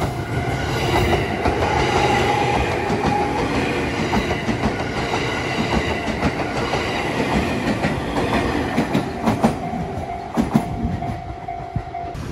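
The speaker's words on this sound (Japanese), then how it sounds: "お、今度は奥羽本線の列車が来ましたね。" A five-car Ou Main Line train bound for Hirosaki passes a level crossing near Aomori. It gives a loud, sustained rolling roar with rhythmic clickety-clack wheel beats and a thin wheel squeal toward the end.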